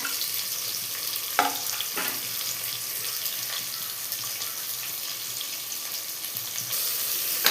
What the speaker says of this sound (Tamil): வெங்காயம் வந்து நல்லா பொன்னிறமாக ஆகிற வரைக்கும் வதங்கணும்